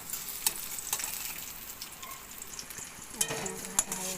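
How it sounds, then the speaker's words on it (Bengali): Garlic, onion and dried chilli fry in a pan for a Bengali sadhna-leaf bharta, a steady close sizzle broken by a few sharp clinks and scrapes of a utensil stirring against the pan. "পেঁয়াজ ভাজা হয়ে গেছে"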